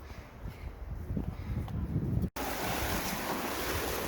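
A river and waterfall rush beside a trail in Zion, a steady, loud broadband roar that cuts out for an instant partway through, then continues just as strongly.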